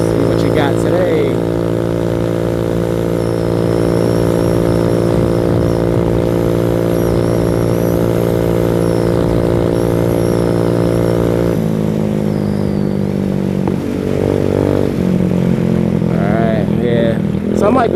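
Venom X18 motorbike, a Df50sst scooter-style bike with an aftermarket variator, riding along a beach road as the throttle opens; a steady, loud engine drone with strong harmonics holds throughout, shifting pitch near the end, with a voice briefly over it.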